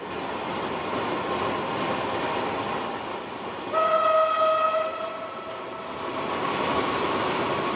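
A train on the Baku–Tbilisi–Kars railway rumbles steadily and loudly, with a sustained horn blast sounding for about a second midway before fading back into the rolling noise.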